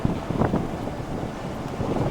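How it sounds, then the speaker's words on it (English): Air rushes through the open windows of a moving pickup truck on a dirt road, a loud, steady buffeting with gusty bumps of wind noise against the microphone. "Pull my windows down and get some of this air blowing in."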